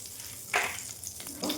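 Butter with bay leaf, cinnamon, cardamom and cloves sizzling in a pan for tempering a fish masala tikka gravy, giving two short, bright bursts of crackling over a low, steady fry.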